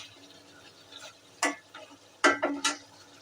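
A spoon stirs meat curry in a pot, its lid lifted between stirs, giving a few sharp scraping strokes and clatters in short bursts over a soft background, with no voices.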